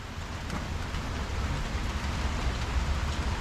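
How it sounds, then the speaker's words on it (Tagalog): Steady rain pours down in a dense, continuous hiss with a low rumble underneath, no voices, holding level throughout. "Ulan."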